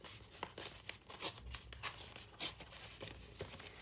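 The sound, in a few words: ripping out a blue paper piece from a journaling packet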